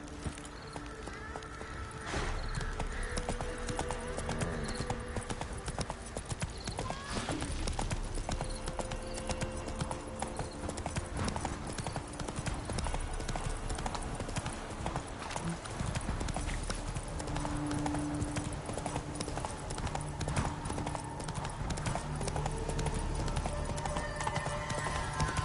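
Roach, Geralt's horse in the video game The Witcher 3, gallops with a steady, driving clip-clop of hooves that runs continuously for the whole stretch, with an occasional faint whinny and game ambience behind it.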